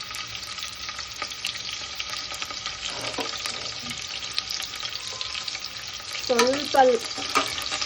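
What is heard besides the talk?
frying sliced onions and dried red chillies in oil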